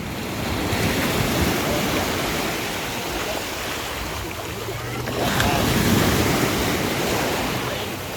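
Sea waves wash on a beach in a steady broadband rush with a swell toward the end, mixed with wind buffeting the microphone and faint voices.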